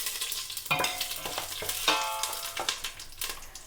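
Whole spices, including bay leaf, cinnamon, cardamom and cloves, sizzle and crackle in hot coconut oil in a pan for mutton biryani. Sharp pops and stirring scrapes sound up close over the steady frying hiss.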